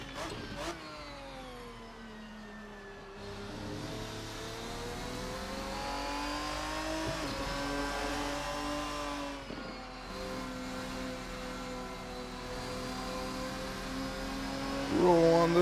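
A GT1 race car engine in Assetto Corsa at Road America revs and rises through the gears with steady harmonic tones and shifts, heard under a voice.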